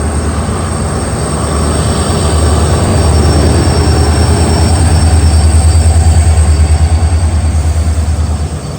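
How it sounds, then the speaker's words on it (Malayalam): A goods train rolls past a level crossing in East Assam, heard from a halted express train: a loud, steady rumble with rapid rhythmic wheel clatter that swells toward the middle and eases slightly at the end. "ഒരു ഗുഡ്സ് ട്രെയിൻ ക്രോസിങ്ങിന് അങ്ങോട്ട് പോയി."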